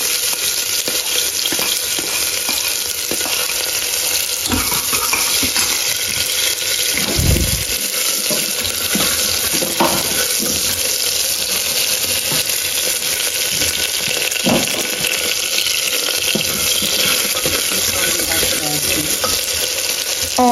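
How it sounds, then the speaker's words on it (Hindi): Fennel, fenugreek and cumin seeds sizzle and crackle steadily in hot oil in a home kitchen, with occasional stirring scrapes and faint water splashes, loud and continuous throughout without speech. "सौंफ मेथी जीरा, तीन चीजें डल गई है ऑयल में, तेज कर दो गैस"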